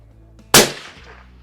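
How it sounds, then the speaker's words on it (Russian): A single sharp shot from an Orsis T-5000 sniper rifle cracks loudly up close, its echo trailing off over about half a second. "Производим выстрел."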